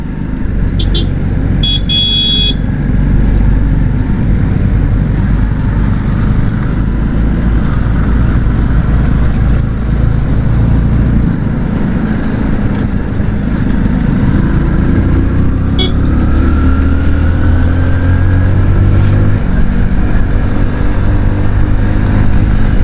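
A tractor engine rolls along a road close by, its loud, steady low rumble and chug continuing throughout without a break.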